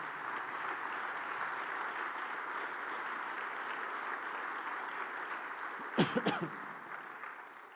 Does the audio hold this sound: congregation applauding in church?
yes